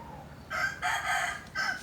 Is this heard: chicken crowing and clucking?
yes